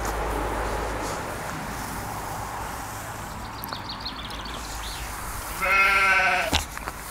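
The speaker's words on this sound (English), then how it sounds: "We're joined by a sheep." A single sheep beside Ullswater lake in the Lake District gives one loud, close bleat near the end, over a steady outdoor background hum.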